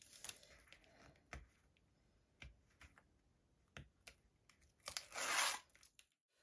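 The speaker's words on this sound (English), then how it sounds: "I'm just going to start taking off some of the backing of the double-sided sticky tape" Backing strips are peeled off double-sided sticky tape on zigzag pieces of recycled-material kinetic art, making sharp close ticks and snaps and ending in a longer, louder ripping tear, with no voices.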